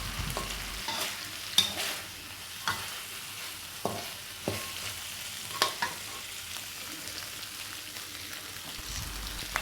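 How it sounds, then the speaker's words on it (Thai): Eel sizzles steadily in curry paste in a hot pan while a utensil scrapes and stirs in occasional sharp strokes. "เอาปลาไหลลงเลยนะครับ ปลาไหลลงใส่พริกแกงนะครับ แล้วเราก็มา คลุกเคล้ากันนะครับ"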